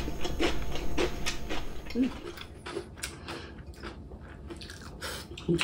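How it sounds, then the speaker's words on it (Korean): Crunchy, lightly blanched cabbage leaves being chewed up close in a home meal of cabbage wraps with grilled duck and snail doenjang sauce, giving steady repeated crisp bites and mastication sounds. "엄청 아삭아삭 거리지?"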